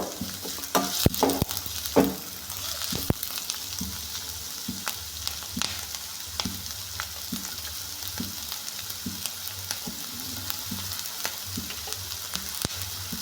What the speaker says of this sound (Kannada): ಈರುಳ್ಳಿ ನೀಟಾಗೆ ಕೆಂಪಾಗೋ ರೀತಿ ಫ್ರೈ ಮಾಡ್ಕೋಬೇಕು